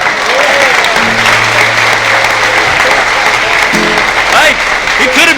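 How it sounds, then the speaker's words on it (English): Audience at a 1970 live concert in Washington DC claps in a loud, close, continuous patter, with tonal hums and some voices mixed in underneath. "Round of applause"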